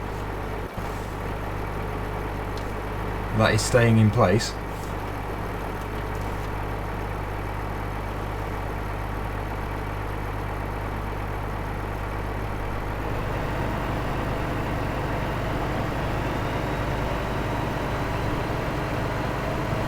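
A farm vehicle engine idles steadily in Farming Simulator 2015, a constant low drone that shifts slightly in tone partway through, with a short spoken remark early on.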